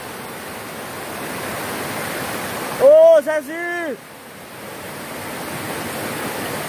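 A large stream in the Brazilian northeast rushes with a loud, steady roar of water throughout, briefly topped by someone shouting a name over the noise.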